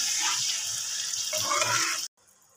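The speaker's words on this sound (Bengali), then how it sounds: "দিয়ে দেওয়া হলো এবার একটু জল।" Water poured from a height into a pan of Lotte fish curry spiced with red chilli powder, a steady close splashing gush that stops abruptly, leaving quiet.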